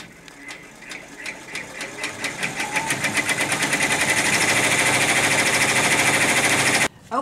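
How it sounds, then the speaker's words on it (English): An embroidery machine sews decorative stitching on a Christmas flowers panel, its needle hammering in a steady fast rhythm that speeds up and stays loud and close, then stops abruptly near the end. "After this tack down, it's going to finish doing all the rest of its decorative stitching."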